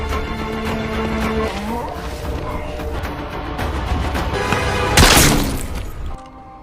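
A sniper's gunshot from the action film Extraction cracks out as a sharp, loud burst near the end, rising over a dense, droning rumble of score and ambience that fades out afterward.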